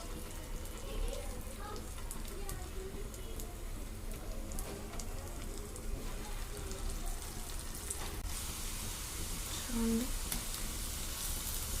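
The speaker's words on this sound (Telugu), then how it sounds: "ఆయిల్ కాగిపోయింది స్టవ్ మీడియం ఫ్లేమ్లో పెట్టుకుని చిన్న చిన్నవి వేసుకుందాం" Mysore bonda batter fries in hot oil on a stove at medium flame, making a steady, dense crackling sizzle like light rain, continuous and close, with a brief clink near the end.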